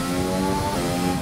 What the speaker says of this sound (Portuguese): É porque é o barulho do motor do carro aqui, não dá pra me ouvir direito.